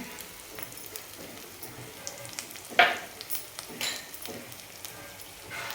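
Red chili powder hits hot masala in a pan for dhaba-style paneer tikka masala, giving a soft, steady sizzle and frying crackle with a brief louder spatter midway, close and fairly quiet.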